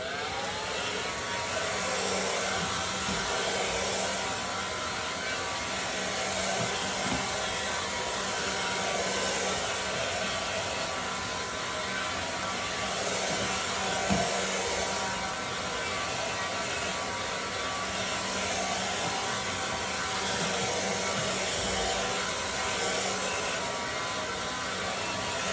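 A hair dryer on low heat blows continuously for the whole stretch, a steady close whooshing whir with an even hum, used while styling men's hair; no one talks.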